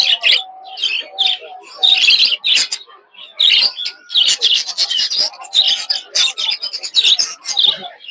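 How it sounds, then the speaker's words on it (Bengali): A pair of lovebirds at a village bird market in Puthia chirps in quick, shrill bursts close to the microphone, a busy run of tweets with short pauses between them. "এক জোড়া লাভবার্ড, এই জায়গায় আছে এক জোড়া লাভবার্ড।"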